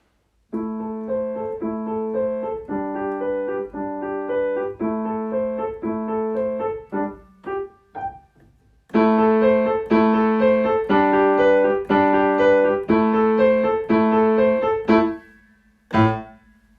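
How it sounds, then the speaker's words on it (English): A simple piece called Prelyudiya played alone and clearly as a melody of plucked tones in repeating phrases, with a short pause in the middle, then a louder second section and a final ringing note. "here is a simple little piece called Prelyudiya."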